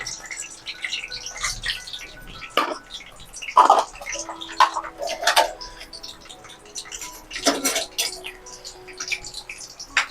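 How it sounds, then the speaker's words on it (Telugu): Watermelon seeds, cashews, almonds and raisins frying in well-heated ghee, with sharp scattered pops and crackles at an uneven rhythm over a soft sizzle, fairly close and moderate in level. "పలుగుతాయి పుచ్చకాయ గింజలు పట్ పట్ అని."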